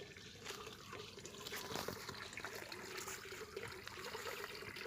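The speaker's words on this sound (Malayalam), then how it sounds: "ഇതിൽ വെള്ളം ഇപ്പോൾ ഡ്രെയിനായി പോകുന്നതാണ് കാണുന്നുള്ളത്" Water draining out through the siphon of a small home aquaponics system, a faint continuous trickle and gurgle heard close up.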